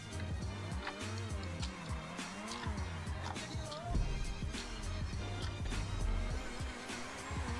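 A car drives in GTA 5 Online, its engine droning low and steady with shifting revs, tires scuffing and squealing at moments, under bursts of other game noise throughout.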